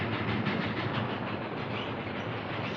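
A moving train rumbles steadily, a loud, continuous roar with a faint rhythmic chug and clatter of wheels on track, close by and without speech.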